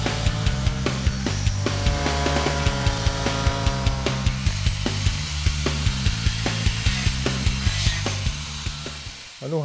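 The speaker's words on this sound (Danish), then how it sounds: "Nu har jeg så skåren i den og lavet hul igennem." Wooden sculpture, a carved vessel, being cut through with a power saw or carving tool, a steady loud droning buzz with rhythmic pulses throughout, close and continuous with no talking.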